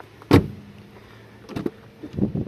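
Door of a Mercedes W123 shutting with one solid, heavy thump up close, followed by a few softer knocks and interior rustles.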